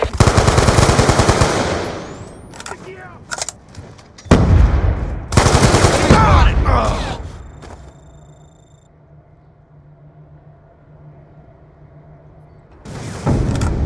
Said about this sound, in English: Death machine spinning up.